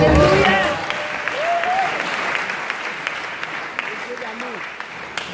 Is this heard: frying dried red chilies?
no